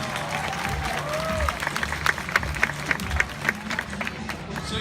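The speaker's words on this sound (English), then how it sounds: "How about a round of applause for Mishka?" A crowd at a tiger show applauds with a lively burst of clapping that builds and lingers over a few seconds, with voices mixed in.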